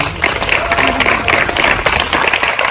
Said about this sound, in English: Give yourself a round of applause because you persevered